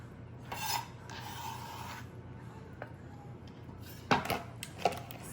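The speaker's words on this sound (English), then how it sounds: "Run a knife through and that will do it." A knife cuts through soft seaweed in a bowl, giving a few short scraping, rasping strokes and light taps against the bowl, fairly quiet and close, with no talking.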